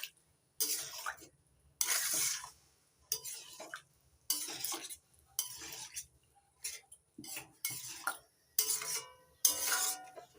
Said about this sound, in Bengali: সেদ্ধ করা মটর আর মশলা ভালো করে মিশিয়ে নিচ্ছি